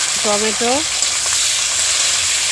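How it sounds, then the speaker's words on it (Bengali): Chopped capsicum frying in hot oil in a home kitchen, a loud continuous sizzle heard up close, with a brief voice near the start. "ক্যাপসিকামগুলো ছোটো ছোটো করে কেটে তেলের মধ্যে দিয়ে দিল"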